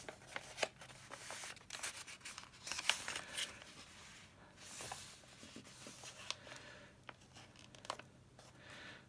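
Paper being folded and creased into a large-envelope journal, with soft crinkling, rubbing and pressing sounds at close range, quiet and irregular throughout.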